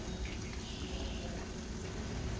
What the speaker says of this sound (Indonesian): Kita goreng hingga satu bagian sisinya matang dan kering